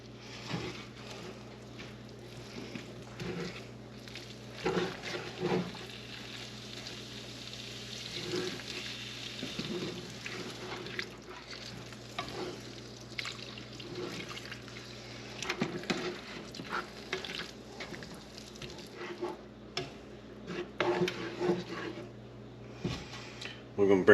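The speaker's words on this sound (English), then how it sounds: "We're going to add milk a little bit at a time." Milk is poured bit by bit into a sausage gravy roux in a hot pan and stirred, giving a steady low sizzle with soft scraping and liquid sounds throughout, close by, with no talk.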